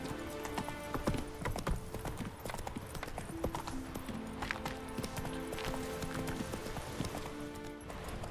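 Roach, the horse in The Witcher 3, gallops in a fast continuous clip-clop of hooves, close and steady, with game music and ambience underneath.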